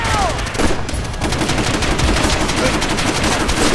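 Celebratory gunfire in Call of Duty: World at War: dense, continuous bursts of automatic weapons crackling loudly and without pause, a wall of overlapping shots filling the whole stretch.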